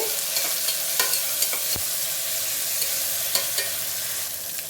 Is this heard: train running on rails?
no